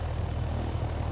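Helicopter in a video game lifting off gently, a steady low rotor and engine drone with a constant rumbling hum, close and unbroken throughout.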